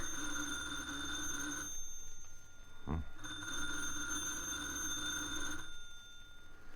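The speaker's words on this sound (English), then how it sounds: "The phone, Comrade Cvetic." Old-time radio drama sound effect of a telephone bell ringing in two long rings split by a short pause, loud and alone with no talk.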